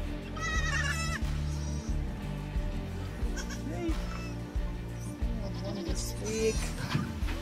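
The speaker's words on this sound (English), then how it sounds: "So these goats are so cute." Goats on a farm in Botswana bleat repeatedly, several wavering calls close by, with music and occasional voices in the background.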